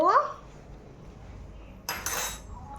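A spoon and dishes handled while cauliflower curry is cooked: a bright clink opens, a quiet pause follows, then a longer clatter of metal on crockery, with voices nearby.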